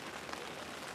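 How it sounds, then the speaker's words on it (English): Steady rain patters on surfaces at a carp fishing spot, a close, even hiss with no talking. "as I was sitting here in the rain"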